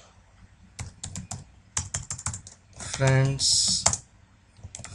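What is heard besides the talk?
typing code on a computer keyboard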